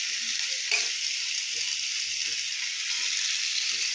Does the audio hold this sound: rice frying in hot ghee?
yes